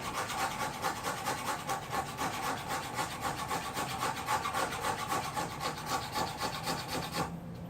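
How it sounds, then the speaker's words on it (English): The spine of a knife scrapes repeatedly along wood to raise shavings, making a steady rhythmic rasping of back-and-forth strokes, close and continuous, with no talking. "I just used the spine of my knife to create all these shavings"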